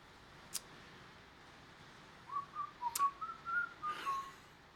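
A person whistles a short, wavering tune, a run of distinct notes close by, quiet overall with a couple of faint clicks beforehand.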